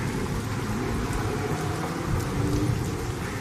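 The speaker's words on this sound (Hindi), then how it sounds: "तभी अचानक जोर जोर से बारिश होने लगती है" Heavy rain pours steadily and loudly on surfaces, a dense continuous wash with no letup.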